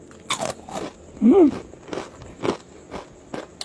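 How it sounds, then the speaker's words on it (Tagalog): Crispy mushroom chicharon is bitten and chewed up close, with sharp crunches followed by a steady run of crackly chewing bursts and no talking. "Kain po tayo chicharon. Mushroom chicharon."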